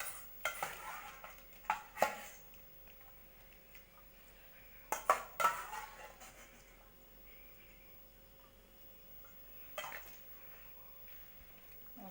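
Blanched pork tossed into a lime dressing, a few scattered clinks and scrapes of a utensil against a bowl in short clusters separated by long quiet gaps, close but soft.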